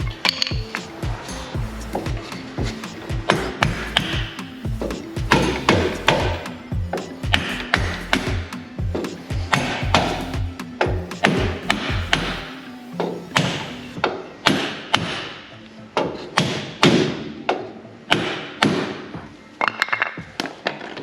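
Hammer blows tapping a suspension part into the frame of a 40-year-old barn-find Ferrari 512 BBi during an overhaul, a long run of sharp metallic knocks in irregular bursts, close and fairly loud, with no talk.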